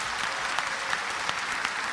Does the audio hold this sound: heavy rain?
no